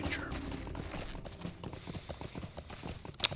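Horse hooves clip-clop steadily in the video game LOTRO as a mounted character rides along, a quick, even, fairly quiet beat with no talking.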